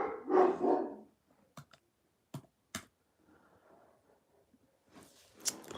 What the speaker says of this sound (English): Let's go look at the dogs that people can't control.